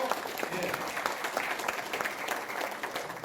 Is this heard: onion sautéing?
no